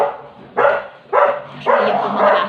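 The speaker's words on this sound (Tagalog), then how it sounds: "yan po mga aso natin sa labas" Dogs barking outdoors, three loud distinct barks spaced about half a second apart, fairly near and clear with nothing else over them.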